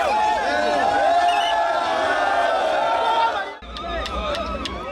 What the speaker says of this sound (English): This then ushers in a celebration mood with spontaneous jubilations from the crowd.